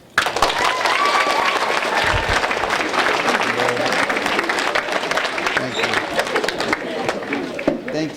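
An audience at a speaking event applauds to welcome Dr. Victor Rios, a loud, sustained wash of clapping across the whole span with some crowd chatter and talk mixed in.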